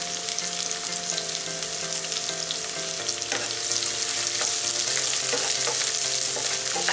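Sliced onion and green chili sautéing in a pan, giving a loud, steady, close sizzle that crackles continuously throughout with a faint hum underneath, and no voices.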